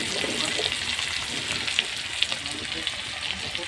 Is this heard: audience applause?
no